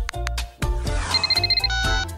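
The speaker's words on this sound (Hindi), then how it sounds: "अब एक कॉल करेंगे।" A phone rings for an outgoing call with a bright electronic ringtone, a few rhythmic tonal bursts following louder musical hits, close and clear without talk.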